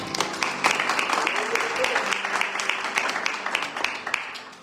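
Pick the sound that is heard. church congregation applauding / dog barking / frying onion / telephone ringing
church congregation applauding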